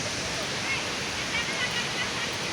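Steady, dense rushing of falling water from Bogatha Waterfall in Telangana fills the whole clip, loud and unbroken, with no distinct events.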